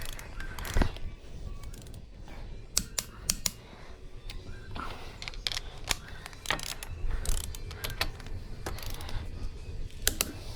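Ratchet clicking on a tamper-proof wheel nut through an adapter during a VF Commodore tyre rotation, heard in irregular bursts of sharp clicks against a busy garage background.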